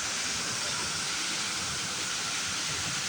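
Mambukal waterfall in Murcia, Bacolod, Philippines roars as a constant, dense rush of falling water, loud and close, with no break and no voices.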